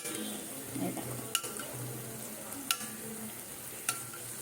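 Dhakai paratha in hot oil in a pan, a soft low sizzle with scraping and handling sounds, punctuated by three sharp clinks of a utensil against the pan at regular intervals.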